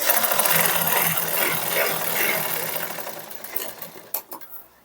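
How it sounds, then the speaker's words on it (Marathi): A sewing machine stitches fabric while joining a piece onto a sleeve, whirring in a steady, close, continuous run for about four seconds before slowing and stopping with a few clicks. "इथे बघा शिलाई मारून घेतली त्याच्यानंतर असं पलटी करायचं आणि तर दाब शिलाई मारून घ्यायची"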